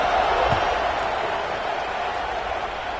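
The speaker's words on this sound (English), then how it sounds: "this crowd is buzzing after that last score" A dense, steady roar rises from a packed stadium crowd at a college football game between Oklahoma and LSU in a football video game. The noise holds loud and unbroken for the whole stretch.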